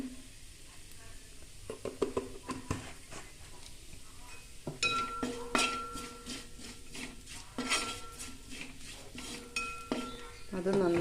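A spoon scrapes and clinks against a pot while fish curry ingredients for a red snapper curry are mixed with pepper powder, producing intermittent metallic knocks over a quiet background hiss.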